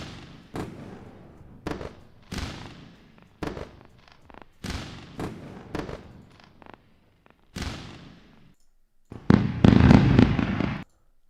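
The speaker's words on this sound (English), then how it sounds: "We gotta go for the fireworks." A fireworks sound effect bursts in a series of sharp pops and crackles at irregular intervals, building to a dense loud crackling volley near the end, with no talking.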